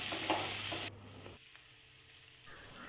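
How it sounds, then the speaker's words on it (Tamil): Shallots, dried red chillies and curry leaves sauté in a pan. A bright, dense sizzle rises briefly, then cuts away to a much quieter, low hiss. "கொஞ்சமாக கருவேப்பிலை சேர்த்து இதை வதக்கிடலாம்"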